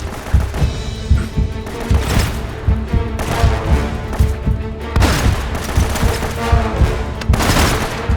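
Grenade explosions and gunfire in the game Uncharted: Drake's Fortune, with rapid bursts of shots punctuated by heavy booms, loud and continuous throughout.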